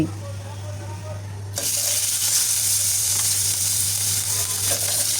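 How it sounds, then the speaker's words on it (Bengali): Fish pieces laid one by one into hot oil in a frying pan for a mixed-vegetable fish dish erupt into a loud, steady sizzle that holds for several seconds over a low, constant hum. "এখন মাছগুলো আমি এক এক করে দিয়ে ভেজে নিচ্ছি"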